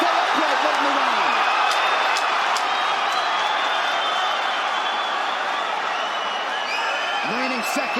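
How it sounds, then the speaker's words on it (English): UFC arena crowd roaring and cheering during the Makhachev vs Volkanovski fight, a dense sustained wall of voices and applause, with a commentator talking over it. "Have you ever heard a crowd like this?"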